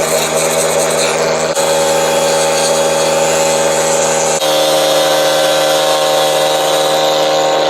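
A loud power tool runs continuously at close range with a steady whine and buzz that shifts slightly in pitch partway through as it sands.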